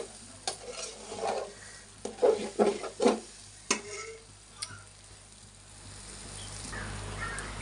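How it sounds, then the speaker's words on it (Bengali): Bhuna khichuri frying in a pan, several scraping stirs of a spoon over a soft sizzle in the first half, then a fading hiss as stirring stops, close and unaccompanied by talk. "আবার একটু ভেজে নিলাম ভালো করে"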